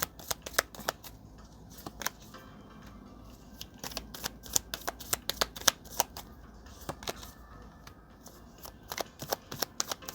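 Oracle cards being shuffled by hand in repeated quick riffling bursts of sharp, close flicks and slaps, continuous across the whole stretch with no talk.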